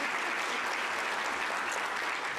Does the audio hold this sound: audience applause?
yes